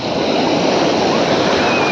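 Sea waves break and surge on the beach in a loud, continuous wash of surf and foam, close to the listener, with wind buffeting the microphone.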